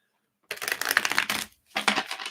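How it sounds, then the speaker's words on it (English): A deck of reading cards is shuffled by hand during a live card reading, producing two dense bursts of papery riffling and slapping, close and fairly loud, with a short pause between them. "Let's shuffle that a little more there."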